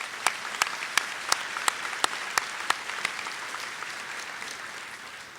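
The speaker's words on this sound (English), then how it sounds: "Let's give them another nice round of applause." Steady, dense applause fills a school assembly for Port Huron Northern High School seniors, with sharp individual claps standing out in a regular beat above the crowd's clapping, which eases slightly toward the end.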